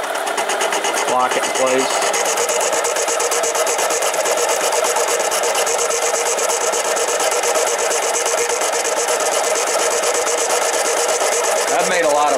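A Harbor Freight 7x10 mini lathe cuts threads on a 304 stainless steel bolt, giving a steady whirring gear drone with metallic rattle, loud and continuous, while a person briefly speaks near the start.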